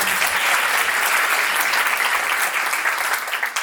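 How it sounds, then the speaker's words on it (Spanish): A studio audience applauds a guest cook on a live cooking segment, brisk dense clapping that stays strong throughout and thins slightly near the end. "Un aplauso para Juanita, por favor."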